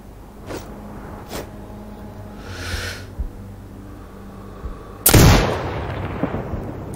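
A single loud sniper rifle shot in Sniper Ghost Warrior Contracts 2, a sharp close crack with a booming tail, preceded by faint clicks and a short hiss.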